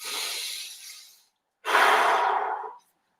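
Two deep, close breaths during a finger-hook pulling exercise: a long exhale tapering off, a short pause, then a strong, airy inhale-exhale, loud and alone with no talking.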